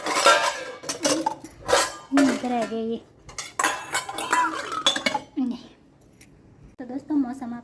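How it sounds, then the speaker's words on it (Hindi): Metal dishes, pots and utensils clink and clatter in bursts as they are carried and put away indoors, with someone talking over and between the rattling. "तो अब लगाती हूँ इन बर्तनों को अंदर।"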